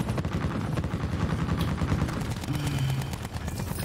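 Rapid automatic gunfire in the multiplayer shooter Call of Duty Black Ops 4, dense bursts of shots crackling continuously with a hovering helicopter-like drone underneath.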